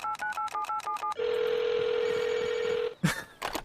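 An in-game telephone in the Rust survival game gives a run of short dial beeps and then a long steady tone. Sharp clicks and noise bursts follow at the end. Nobody speaks.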